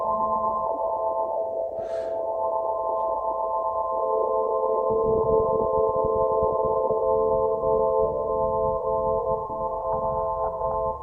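A sustained, shimmering tonal drone from the Goodhertz Lossy plugin in clean mode, with layered steady harmonics, smooth and airy, holding at an even level without any talking.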